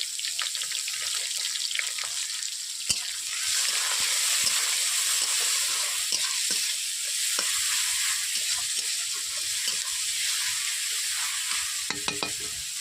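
Bay leaf and onion fry in a pan for a mixed vegetable curry, giving a steady close sizzle broken by occasional scraping stirs and a few clinks.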